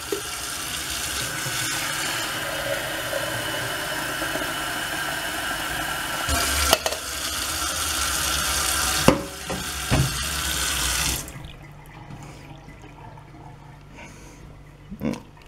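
Hot water pours steadily from a coffee maker being used for cooking macaroni and sausages, a continuous splashing flow with a few clicks and knocks, then cutting off abruptly, leaving near-silence and a faint clatter at the end.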